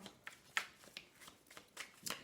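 Tarot cards snap and slide as they are drawn and handled, a series of short, quiet flicks and rustles at an uneven pace, close by.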